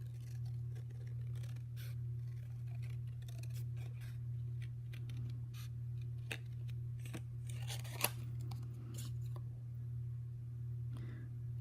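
Scissors fussy cutting paper close by, a run of small soft snips and scrapes over a steady low hum, with no talk.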